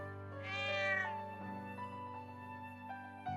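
Small cat in Trails of Cold Steel II letting out one drawn-out, fairly deep meow, close and clear, followed by a soft tonal game background without voices.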